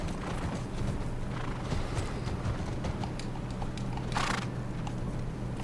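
Horse hooves in The Last of Us Part I clop steadily at moderate volume, with a short bright burst near the end that may be a whinny; no talking.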